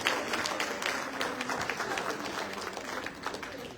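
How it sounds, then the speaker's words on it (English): An audience clapping at a political rally in Ghana, a dense and steady applause that runs throughout and fades slightly toward the end, heard from within the crowd with some voices beneath. "Give a clap of hands to yourself."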